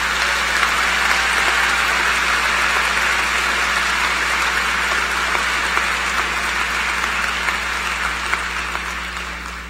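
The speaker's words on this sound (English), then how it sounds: "I want to give them a round of applause for serving our beautiful country and graduating today" Large commencement crowd applauding graduating military veterans at an FGCU spring ceremony, a steady, dense wash of clapping that holds at full strength throughout, close and loud with no break.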